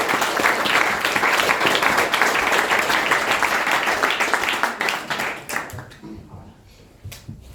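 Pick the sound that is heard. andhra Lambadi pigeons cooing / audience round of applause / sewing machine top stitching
audience round of applause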